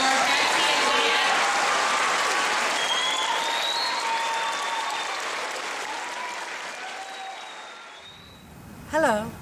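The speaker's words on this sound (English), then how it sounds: "Let's give one more round of applause for Betsy and Dan." Sustained audience applause at a show, loud and dense for about eight seconds with occasional cheers, then fading out before a voice begins speaking at the end.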